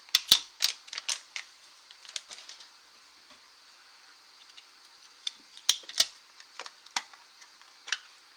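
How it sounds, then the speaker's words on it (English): Packaging crinkles and rustles close by in sharp, irregular bursts of crackling with quiet gaps between them, and no talking. "Apologize for the crinkling."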